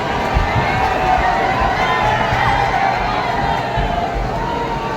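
A large crowd at the Lalbaugcha Raja darshan in Mumbai: dense, loud, continuous babble of many voices, with scattered shouts and cheers rising from the steady roar throughout.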